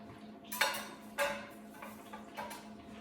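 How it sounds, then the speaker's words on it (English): Two spatulas scoop cooked hamburger meat onto slider burgers, giving a few separate scraping, clattering strokes at close range with quiet gaps between them. "I'm going to take 2 spatulas and scoop up the hamburger meat that I just cooked and put it directly on"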